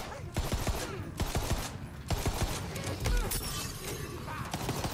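Gunfire in the fantasy shooter Tiny Tina's Wonderlands, dense bursts of rapid shots and impacts with sharp cracks over constant game noise, loud and continuous with no talking.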